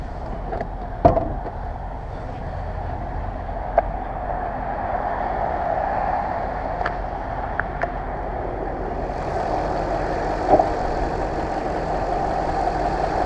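A 2000 Jaguar XJ8 sedan engine idles steadily and low, humming on evenly without knocking, with a few faint clicks and taps scattered over it.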